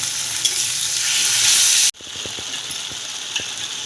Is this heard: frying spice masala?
yes